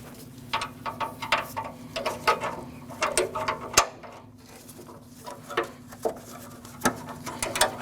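A hand ratchet wrench loosens a 10mm bolt on the knock sensor bracket of a 2014-2023 Jeep Cherokee 2.4L four-cylinder, giving bursts of close, light clicking with short pauses, over a steady low hum.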